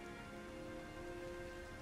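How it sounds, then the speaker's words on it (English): Rain falling in an area of the Sky video game, a faint, steady hiss of rainfall with a soft sustained tonal drone in the background, continuous and without speech. "this will stop the rain in this area"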